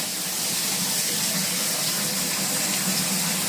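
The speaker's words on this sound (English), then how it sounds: "Step 1 is turn on your hot water all the way." A hot water tap turned fully open runs in a steady, loud broadband rush with no breaks, close by and alone without voices.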